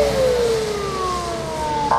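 An emergency vehicle siren wails nearby, a single tone sweeping slowly downward over a low rumble of passing traffic, as an ambulance and a rescue vehicle cross an intersection with signals on.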